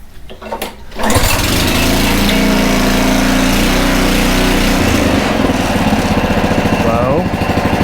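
Honda HRC216 lawn mower engine starting after a brief rustle and then running steadily at a loud, close, constant drone, with a slight change in pitch midway and a faint squeak near the end.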